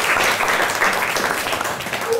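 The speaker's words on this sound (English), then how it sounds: "Give a clap to Catherine." A Year 6 English class claps for a classmate, a dense, even patter of many hands lasting a couple of seconds with no talk over it.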